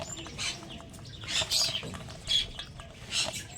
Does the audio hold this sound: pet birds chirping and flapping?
yes